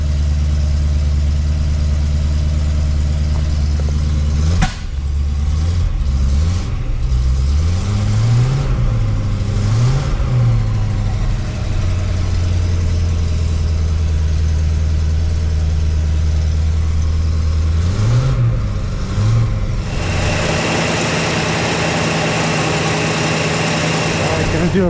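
A 1968 Pontiac LeMans engine idles steadily and close by, with a deep, rumbling drone and a few brief revs rising and falling. Near the end a hiss rises over the engine.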